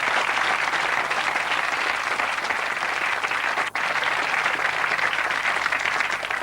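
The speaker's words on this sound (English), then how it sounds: "give them a round of applause" A live TV studio audience claps steadily in loud, sustained applause, with a brief dip near the end before it continues.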